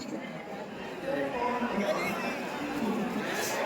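Crowd chatter at a busy railway platform during the Maha Kumbh rush, a steady dense murmur of many overlapping voices nearby with no single speaker standing out, continuous throughout.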